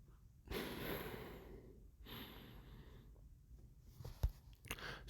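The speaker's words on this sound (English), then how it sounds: "I had to blow my nose real quick" Someone blows their nose in two forceful, breathy bursts, followed by faint sniffs and a small thump, close to the microphone in a quiet room.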